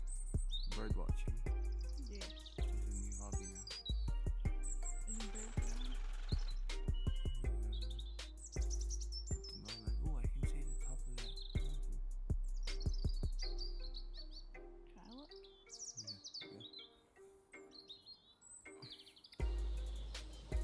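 Birds chirp in a forest in Horton Valley, with quick bright calls trading back and forth near and far over a steady outdoor hiss, broken by scattered clicks and handling knocks.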